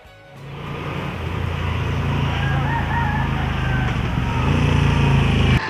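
A Moto Guzzi V9 Bobber V-twin motorcycle engine starts up and settles into a loud, steady, throbbing idle close by, with a low rumbling pulse that continues to the end.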